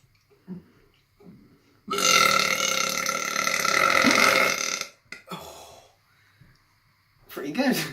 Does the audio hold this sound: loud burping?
yes